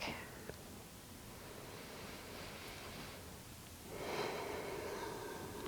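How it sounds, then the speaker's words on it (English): Slow, deep breaths during a yoga session, a long soft exhale followed by a gentle inhale, quiet and close with a faint hiss and no talking. "Nice long deep inhales and exhales"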